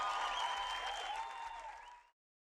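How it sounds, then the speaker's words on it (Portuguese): A church congregation breaks into loud, dense applause that sustains steadily for about two seconds before cutting off abruptly, with a faint tonal musical line running underneath. "Olha lá as palmas."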